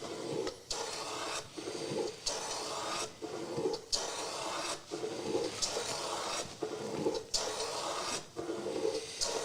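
A hand block plane shaves a chamfer along a wooden edge for a bed desk build, with rhythmic close-up rasping strokes of about a second each, separated by short gaps.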